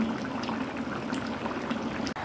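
Curry of long beans in thin fish broth boiling in an uncovered pot, a continuous close bubbling and burbling wash with soft liquid pops, no voices.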